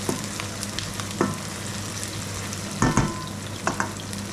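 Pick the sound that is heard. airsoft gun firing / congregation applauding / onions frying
onions frying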